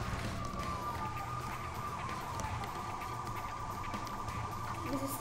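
A fire truck siren in Lego City Undercover wails faintly in the distance, a thin sliding tone over low rumbling game noise. No voices are heard.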